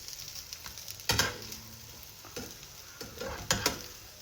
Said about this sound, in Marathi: या अशा आता दोन्ही बाजूनी आपल्याला भाजायच्या आहेत.